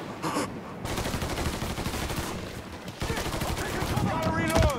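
Rapid gunfire from a firefight in the video game Mafia III, dense bursts of shots running nearly throughout, with shouting voices mixed in and a rising whine near the end.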